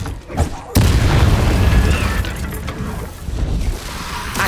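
Incendio fire spell cast in Hogwarts Legacy, a sudden loud whooshing burst and boom that rumbles on for several seconds, with voices heard during the game audio.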